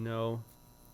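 A fluorescent lamp gives a loud, steady electrical hum with a strong buzzy tone that stops abruptly partway through, leaving faint background noise.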